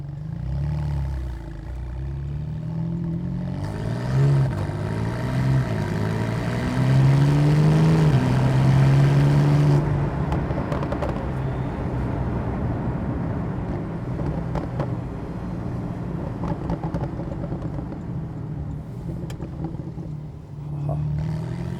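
A 991.2 Porsche 911 Carrera GTS with a 3-litre twin-turbo engine pulls through an old English village in third gear at about 30 mph. The engine note climbs steadily, then settles into a low, even rumble.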